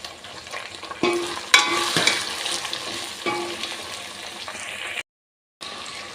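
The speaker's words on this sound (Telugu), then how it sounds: "ఈ ముల్లంగి అంతా కూడా ఈ వెజిటేబుల్స్తో పాటు చక్కగా కలిసేలాగా కలుపుకుందాం." Radish and mixed vegetables get stirred in a pan, scraping spoon strokes and clattering sizzle surging over a steady frying hiss, with a brief silent gap near the end.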